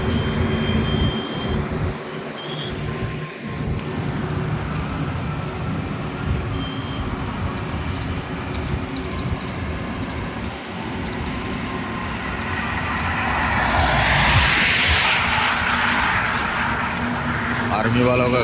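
Heavy tanker lorries carrying gas roll past on a national highway, a continuous broadband traffic roar with a louder swell of a close pass near the end, voices talking over it.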